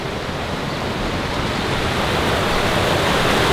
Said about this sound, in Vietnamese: Suối nước trong veo luôn.